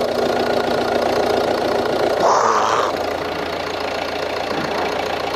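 A Volvo V60 engine idling just after being started, with the coolant cap off and white smoke pouring out, a steady close mechanical hum with a brief louder swell partway through, no voices.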